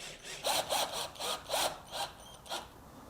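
Hand saw cutting a slightly larger piece of wood for the bottom of a shelf in a car camping build, with six or seven rhythmic rasping strokes, close and steady, alone without talk.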